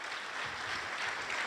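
An audience fills a cinema in Citerna and claps steadily, a brief dense patter of applause at moderate volume without talking.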